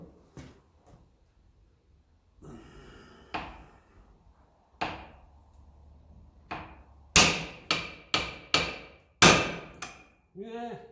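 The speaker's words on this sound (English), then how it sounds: "Unless I want to try him with the tap of a hammer" A hammer taps on a part of a 1954 Ferguson 20 TEF diesel tractor: a few scattered light knocks, then a run of five or six sharp, close metallic blows in quick succession, with no talking.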